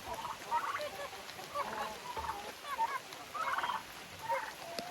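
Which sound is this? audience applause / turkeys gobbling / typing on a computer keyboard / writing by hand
turkeys gobbling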